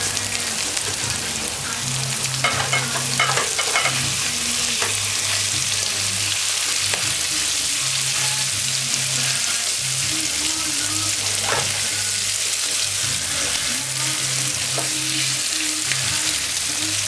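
Curried chicken pieces fry in a pan with a steady, close sizzle throughout, broken by occasional crackles and stirring sounds, with no talk.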